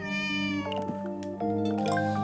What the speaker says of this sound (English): Hello, Granda Cat.